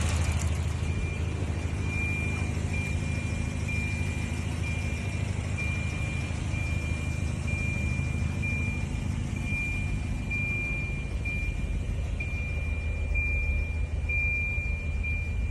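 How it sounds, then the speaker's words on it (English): A 1990 Volvo 240 idles steadily with a continuous low engine rumble, heard from inside the stripped car, with a faint constant high tone and no talk. "Car running."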